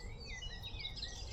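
A garden warbler sings from up in the vegetation beside a boardwalk on Staines Moor, a faint, distant, continuous warbling with no voices over it.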